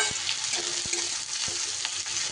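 Onions fry in a pan, a close, constant hiss and crackle of hot oil with a few light taps of a spoon stirring through it.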